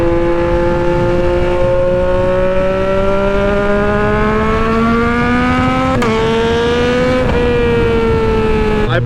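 A Yamaha three-cylinder motorcycle engine, an XSR900 or MT-09, holds a loud, steady, close drone for nine seconds, its pitch climbing slowly with two brief throttle blips near the end and no talking.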